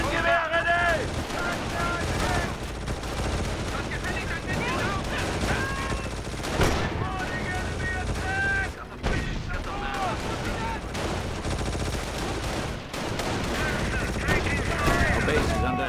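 Battle gunfire from the video game Company of Heroes: continuous rifle and machine-gun bursts with explosions, loud and dense throughout, mixed with game music and soldiers' voice lines.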